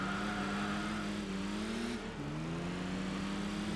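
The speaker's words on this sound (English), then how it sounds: "Not really noticing too much change in engine sound here." A classic European car engine in Enthusia Professional Racing drones steadily with a buzzing exhaust note, dipping briefly as it shifts gear before holding a constant high hum.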